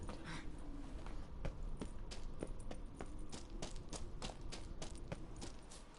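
A horse in The Witcher 3 trotting with steady, rhythmic clip-clop hoof beats, fairly faint, over a continuous background bed from the game.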